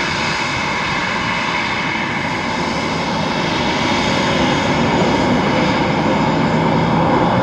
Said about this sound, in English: So, safely down for Ryanair from Brussels.